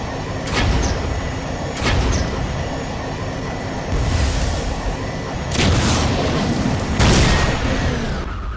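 Gunfire in the Warhammer 40,000 video game Dawn of War: Soulstorm shoots down Hell Talon aircraft, heard as a rapid run of loud booming bursts and blasts over a constant rumbling battle din.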